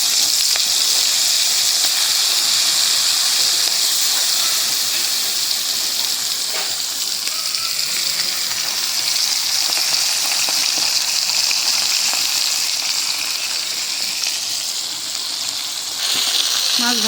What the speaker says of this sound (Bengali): তেলটা গরম হয়ে গেছে, মাছ দিয়ে দিই।